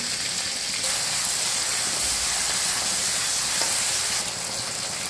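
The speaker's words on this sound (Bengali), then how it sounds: "এখন দিয়ে দিব আদা রসুন বাটা" Ginger garlic paste hits a hot pan of fried shrimp and onions, producing a loud, continuous steamy hiss and sizzle that holds steady throughout.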